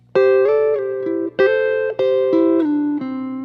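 Clean electric guitar double stops on a Telecaster's neck pickup, warm and round, several two-note shapes sliding down in a loose Memphis soul rhythm, played alone and up close.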